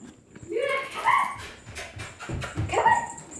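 A very small dog gives short high yips and barks mixed with whimpering, loud and close, with a person talking over it.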